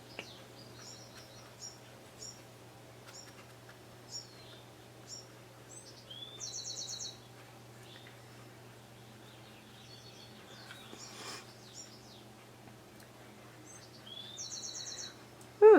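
Birds chirp and sing outdoors beyond a studio wall, short tweets and trilled phrases repeating at intervals, faint and distant over a steady low hum.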